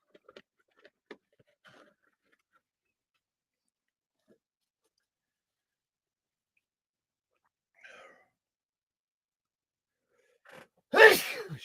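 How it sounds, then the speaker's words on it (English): A single loud, close human sneeze bursts out near the end after long near-silence broken by faint clicks and small noises. "That's the first time I've heard you sneeze on here."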